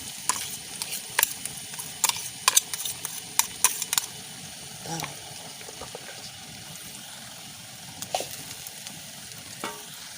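Ground jackfruit seed paste for upkari is stirred in a frying pan with a little curry leaf, giving a faint background sizzle broken by sharp scraping clicks of a spoon against the pan, clustered early then sparser.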